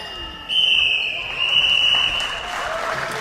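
A quarter-end buzzer at a netball match sounds as a long, steady electronic tone over a noisy crowd in an indoor arena, with a commentator talking beneath it.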